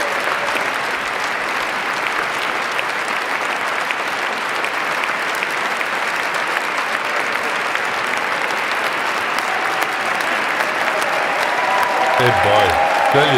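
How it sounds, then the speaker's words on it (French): A standing crowd at Donald Trump's presidential inauguration applauds his speech with sustained, dense clapping and crowd noise throughout. Near the end, a voice comes in over the applause. "Là, les gens sont debout à applaudir Donald Trump."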